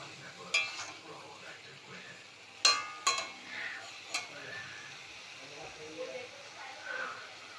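Meat being stirred and fried in a pan, with a faint background sizzle broken by a few sharp scraping strokes of a spoon against the pan. Intermittent speech is also present.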